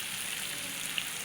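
Potatoes tossed into hot spiced oil for a Maharashtrian potato curry, a brief hiss of broadband sizzling that stays even throughout with one small pop near the end.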